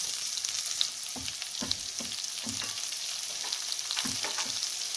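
A spiced gooseberry (amla) mixture with turmeric and coriander powder is stirred in a pan over low heat, with a soft steady fry beneath rhythmic scraping strokes of a spoon.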